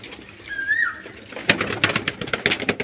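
Pet pigeons kept at a house coo low and close, a single clear whistling call early on, then a burst of sharp wingbeats and scuffling as birds flap and shift in the loft.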